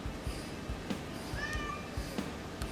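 A cat called Poodle gives a couple of brief, fairly clear meows in a home garage, with soft taps and a low steady background noise in between.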